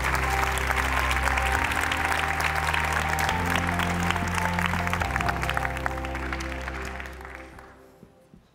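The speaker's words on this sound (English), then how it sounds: "So please give a warm welcome and an applause to General Sir Richard Barrons." Audience applause welcoming a retired British general to the stage at a European security conference, a dense steady clapping from a large room that holds for several seconds and then fades out toward the end.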